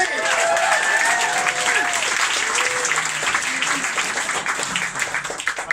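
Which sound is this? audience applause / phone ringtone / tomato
audience applause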